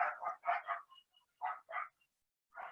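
Dogs barking outside in short clustered bursts, several sharp barks in quick succession followed by pauses, fairly faint and with no talk over them.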